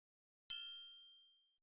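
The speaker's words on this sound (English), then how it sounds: "On the one, little triangle." A single bright triangle strike in a hip-hop beat rings out alone, a clear metallic ding that decays smoothly over about a second.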